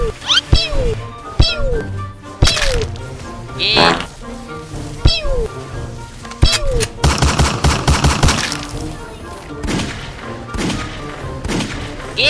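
Gunfire in a mobile shooter game, with bursts of rapid shots and single thuds scattered across the stretch, loud and close, mixed with game sound effects and someone talking excitedly over it.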